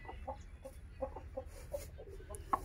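Aseel hens clucking in a quiet farm setting, a series of short soft clucks spaced about every third of a second over a low background hum, ending in a slightly sharper, louder cluck.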